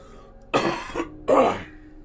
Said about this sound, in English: So if you hear me cough, I do apologize.